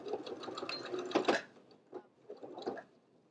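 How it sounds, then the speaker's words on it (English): Sewing machine backstitching along the top edge of a crisscross reversible apron pocket, a close, steady whirring run of stitches that breaks into a few shorter bursts as it reverses. "I'm going to backstitch when I get to the top here as well to secure my stitches"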